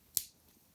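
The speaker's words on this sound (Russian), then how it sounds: "имеется разъем для подключения комплектного кабеля, вот таким образом, до щелчка" A headphone cable plug snapping into the earcup of Sivga Luan full-size headphones, one crisp, close click that decays quickly into quiet.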